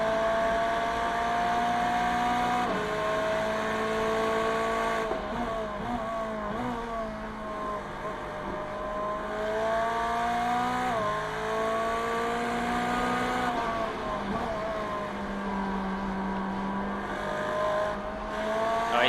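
Ferrari GT3 race car in the iRacing sim at Watkins Glen, its engine whining steadily with repeated upshifts and drops in pitch as it brakes and accelerates, close and continuous with another car's engine audible alongside.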